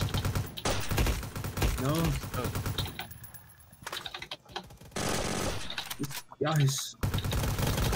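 Bursts of automatic rifle fire in the Roblox Vietnam War game, rapid rattling volleys that stop and start with quieter gaps, while players talk over the shooting.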